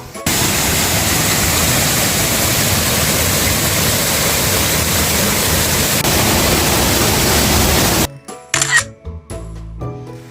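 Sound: waterfall, rushing water

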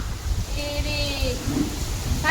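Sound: heavy rain

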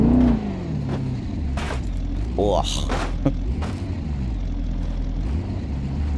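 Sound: car driving in BeamNG.drive video game

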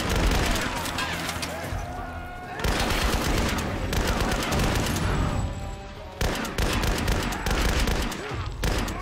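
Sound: automatic gunfire in the video game Tomb Raider

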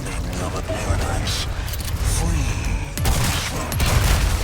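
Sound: shotgun firing in the video game Resident Evil 4 Remake

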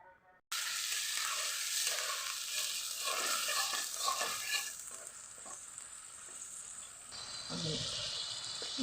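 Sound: spices sizzling in pan with a little water added

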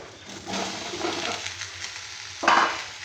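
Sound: ridge gourd added to frying potatoes in pan

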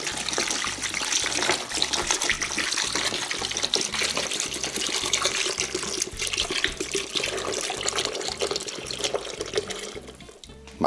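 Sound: water being poured onto ice

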